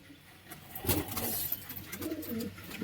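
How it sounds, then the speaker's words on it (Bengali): Pigeons coo in a loft, soft repeated throaty calls rising and falling over a low background hum, with a slightly louder burst near the start. "এখানে সমস্ত পায়রাগুলো রয়েছে"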